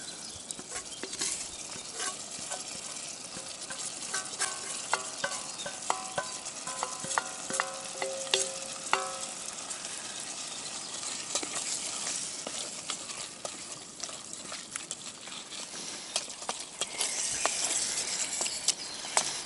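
Onion and garlic frying in a pan for a fern dish, a steady close sizzle with stirring scrapes and scattered pops running throughout at low, even loudness.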